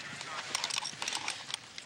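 A walking racehorse's hooves clip-clop in light, irregular taps on hard ground as grooms keep it moving, faint and close, with people talking over the steps.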